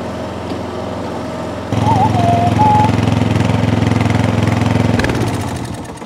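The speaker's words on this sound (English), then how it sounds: "It's one of those nice mowers that starts and runs but doesn't actually cut no grass." A scrap Toro lawn mower engine runs near and loud. It starts at a lower idle, then rises to a steadier, harder note, and the pitch drops and fades toward the end, with no talking.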